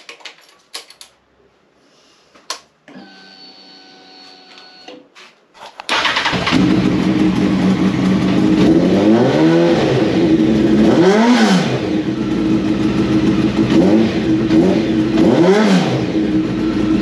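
A Honda 929 motorcycle, just refitted with new spark plugs, cranks and fires up, then idles loudly and revs in several rising and falling surges; a few faint clicks and a brief tone come before the start.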